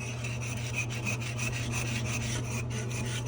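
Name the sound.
scrubbing a toilet with a cleaning tool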